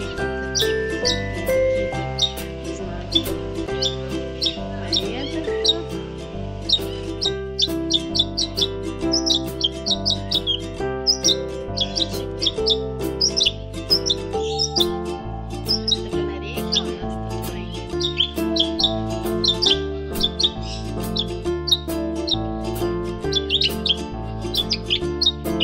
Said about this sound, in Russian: Смотри, какие здесь птички есть. Такая совсем маленькая. Синички